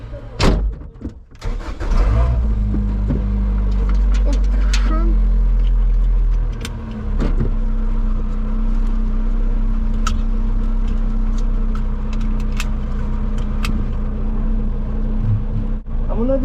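A Lotus Exige 260 Cup engine cranks and fires up with a sharp burst, then settles into a steady loud idle rumble, with a few clicks and a brief rev along the way.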